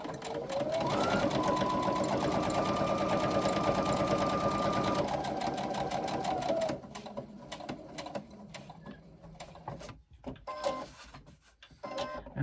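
Sewing machine stitching fabric with back stitches, running with a steady, loud, close mechanical whir for about six seconds, then stopping and giving way to quieter handling noises and a few short bursts of machine movement.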